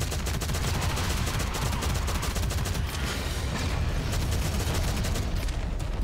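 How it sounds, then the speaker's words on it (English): Dense, continuous gunfire from shooting in Shadowgun Legends, rapid automatic bursts overlapping into a loud, unbroken barrage with booming low end. "Seems like one guy is shooting the data hives."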